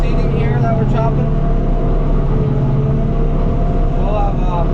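A forage harvester chopping sunflowers, heard from inside the cab: a steady, loud droning engine and machinery hum with a constant low tone, running unbroken throughout.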